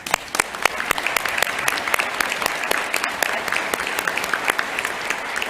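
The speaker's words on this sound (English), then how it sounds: "stand for a quick round of applause" A crowd at an occupational therapy convocation and awards ceremony claps for faculty, lab instructors, fieldwork coordinators and alumni, a dense, steady round of applause from many hands throughout.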